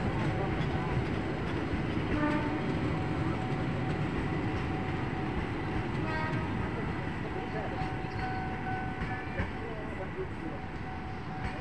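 A train rumbles steadily through Pondok Jati station, with a low continuous roar, faint tonal squeals and murmuring voices in the background throughout.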